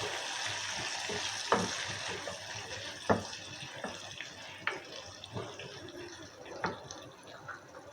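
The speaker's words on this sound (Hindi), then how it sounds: "ये कड़ी पत्ता मैं डाल रही हूँ।" Dried curry leaves crackle in hot oil with a busy, continuous sizzle, punctuated by sharp pops and spatters every second or so.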